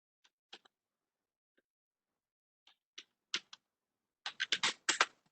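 Code is typed on a computer keyboard in bursts of quiet key clicks: a few scattered taps, then a quicker run of close keystrokes toward the end, with no talk.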